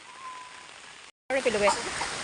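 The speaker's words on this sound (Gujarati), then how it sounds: "વરસાદ પડી રહ્યો છે ને અમે લોકો વરસાદની મજા લઈએ છીએ બહાર" Rain falls outdoors as a steady, close hiss that briefly cuts out, with a voice speaking over the downpour in the latter half.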